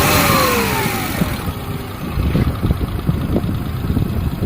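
A stage 2 remapped Maruti Suzuki 800 engine revs loudly and close by, with a steady mid-pitched drone and rough pulsing bursts. A thin high whine joins partway through.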